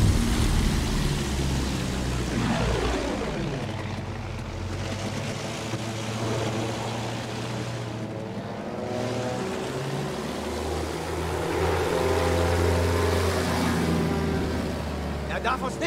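A Bristol biplane's propeller engine drones throughout a Battlefield 1 flight, its pitch sweeping down and back up as the throttle shifts, with a voice speaking over the steady hum.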